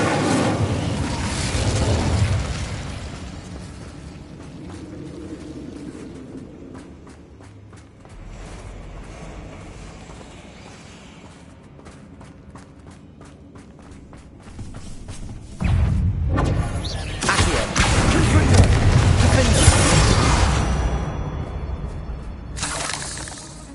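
An Incendio fire spell cast in the video game Hogwarts Legacy gives loud, rumbling bursts of blast and crackle at the start and again later, with a quieter stretch of ambience between them.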